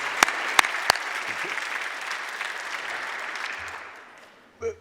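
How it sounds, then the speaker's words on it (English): Lecture audience applauding in a hall: a few sharp close claps open a sustained wash of clapping that gradually thins and fades out near the end, followed by a brief soft thump. "How about one more round of applause for Dean Pasek?"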